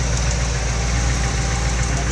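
A 1959 Chevy Impala's 348 V8 idles steadily up close, a smooth, even rumble with a faint rhythmic tick from a slight exhaust leak and no talking over it.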